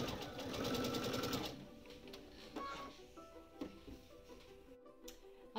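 Sewing machine stitching the points of Dresden plate fabric wedges: a steady whirring run at the start, then quieter intermittent mechanical clicks and bumps as the fabric is handled, no talk.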